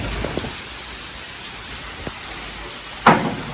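Steady heavy rain from a morning thunderstorm in Delhi hisses throughout, with a few sharp drops or knocks and a louder splash near the end.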